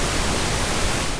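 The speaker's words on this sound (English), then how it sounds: "This is pink noise." Pink noise plays as a loud, steady rushing hiss, softer and less bright than pure white noise, continuous and alone for its short length.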